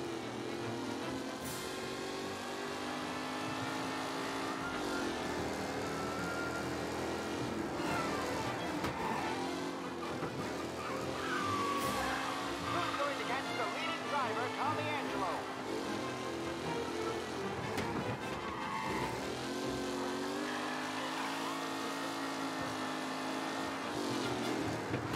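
Race car engines drone and rev continuously through a street race in the video game Mafia Definitive Edition, with a commentator's voice talking over the steady, loud engine noise throughout.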